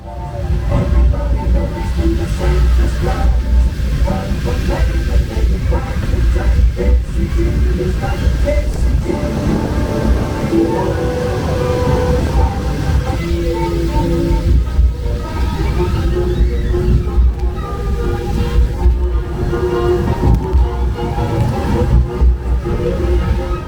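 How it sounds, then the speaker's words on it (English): Casey Jr. Circus Train, a small kids' roller coaster themed to Dumbo at Disneyland Paris, rumbles continuously along its track with steady mechanical clatter and a constant low drone, fairly loud and close throughout. "the Little Train of the Circus, is a train ride from Dumbo, and it is the perfect kids first coaster"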